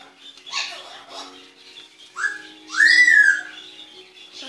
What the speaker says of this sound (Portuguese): Galera, desculpem pelo barulho aí. É por causa do meu papagaio.